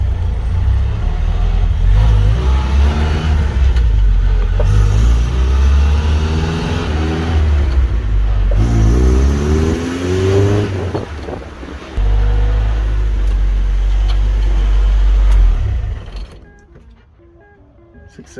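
A Toyota KE10 Corolla on a test drive: a steady, loud engine drone with rising revs and road rumble runs throughout, easing off and fading near the end.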